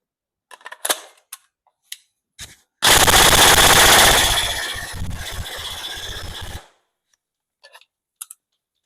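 A Tokyo Marui M4 URGI Next Gen airsoft electric gun with a brushless motor fires one rapid full-auto burst of about four seconds, a loud buzzing rattle between isolated sharp clicks and mechanical ticks.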